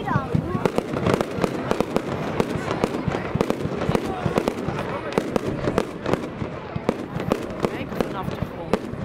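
Rapid, dense bangs and crackles of a large fireworks show going off continuously, sharp pops layered over a roaring backdrop, with voices mixed in.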